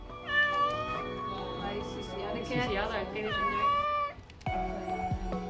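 A cat on a houseboat shelter meows several times in drawn-out, wavering cries, close and clear, with a brief quieter gap before another short meow near the end.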